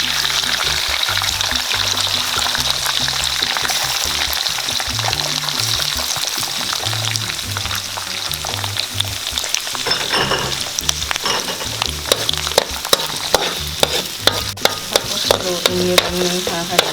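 Three eggs fry in a pan for pineapple fried rice, a loud constant sizzle under busy scraping and tapping of a spatula stirring them, with clinks against the pan growing sharper toward the end.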